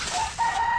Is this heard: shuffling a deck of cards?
no